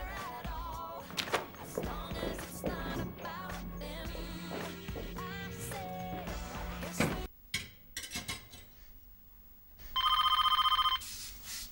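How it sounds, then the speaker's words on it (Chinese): A telephone rings near the end of a scene in a Chinese TV drama, a loud bright electronic ring bursting in after music and room sounds. "电话。"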